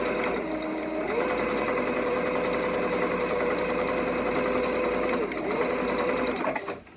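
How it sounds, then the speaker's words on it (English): A sewing machine back stitches in close, loud bursts, its whirring motor rising and falling through several short runs before cutting off abruptly near the end. "And I back stitch."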